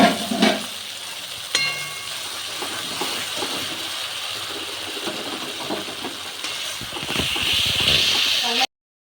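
Spice paste mixed with ground peanut paste fries in a pan for a pabda fish curry, with a continuous sizzle and stirring scrapes, and a voice speaking intermittently over the cooking.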